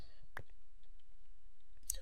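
A few sharp computer keyboard clicks sound close and isolated, one near the start and a short cluster at the end, over near silence.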